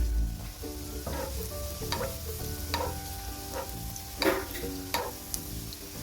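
Panikoorka leaf bajji fries in hot oil with a soft continuous sizzle, punctuated by light scrapes and taps of a utensil turning the fritters, quiet and close.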